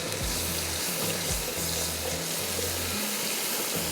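Onions frying with spices and mutton mince for qeema masoor, a steady hissing sizzle under a low background hum, close and continuous without breaks.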